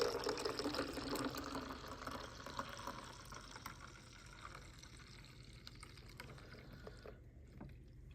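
Cleaning fluid pours into the reservoir of a HumminGuru record cleaner, a soft, close trickle and splash that is strongest at first and then thins to a faint drip before stopping.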